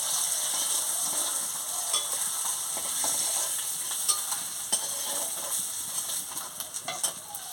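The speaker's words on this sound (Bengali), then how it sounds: "আলুটা ভেজে নিচ্ছি।" Potatoes frying in a pan in a home kitchen, a steady faint sizzle with occasional scraping stir clicks toward the end, no talk.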